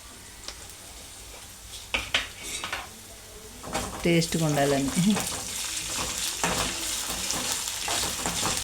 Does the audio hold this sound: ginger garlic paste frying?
yes